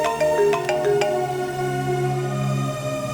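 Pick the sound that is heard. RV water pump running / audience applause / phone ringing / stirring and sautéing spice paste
phone ringing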